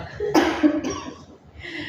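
A single harsh cough bursts out close by, followed by a short rasp and a brief throat sound trailing off.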